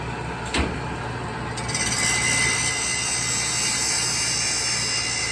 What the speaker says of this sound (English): This is the air assisted hydraulic system. Air runs this, hydraulic runs this